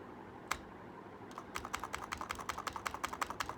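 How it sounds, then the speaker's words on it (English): Typing on a computer keyboard: a single sharp tap, a pause, then a quick run of crisp, evenly spaced keystrokes heard close up with no talking. "let me just type in. Just type into here"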